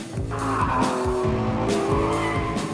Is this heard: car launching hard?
yes